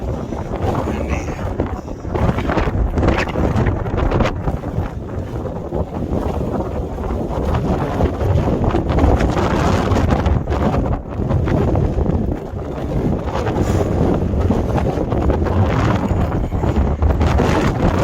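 Strong wind on a rocky stretch of the Appalachian Trail buffets the microphone in a loud, continuous roar with heavy rumbling gusts, and it barely lets up for the full length.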